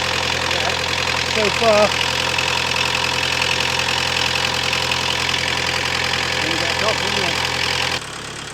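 A MK2 Golf GTD diesel engine idles steadily with a low, even clatter and hum, close up, while someone briefly speaks over it; the engine note drops slightly near the end.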